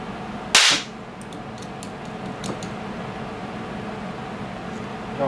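A 200-volt capacitor bank charged from a 12-volt battery discharges with one sharp, loud crack like a cap gun, followed by faint ticking and small snaps over a steady background hiss.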